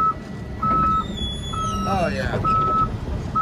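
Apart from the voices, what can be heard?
buttons pressed in snowplow cab, beeping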